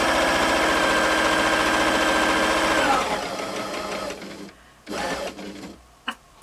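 A Necchi Artisan 30 S sewing machine runs flat out, a dense, loud, rapid mechanical clatter for about three seconds, then slows and winds down, ending in a few short bursts and quiet gaps.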